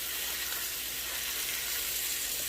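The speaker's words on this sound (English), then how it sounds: "smash the burger right into those onions and get them nice and embedded in there" A smash burger patty pressed onto Vidalia onions sizzles on a griddle with a steady, moderate hiss lasting the whole moment, with no voices.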